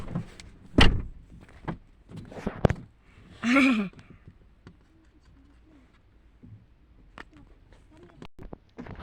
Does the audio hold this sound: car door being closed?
yes